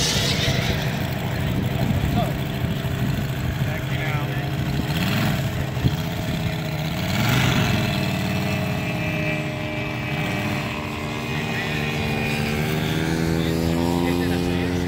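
A propeller aircraft taxis with a steady, loud engine drone and whirring prop throughout, its pitch rising and falling slightly as power changes, heard from inside or close by.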